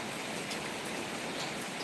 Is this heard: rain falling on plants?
yes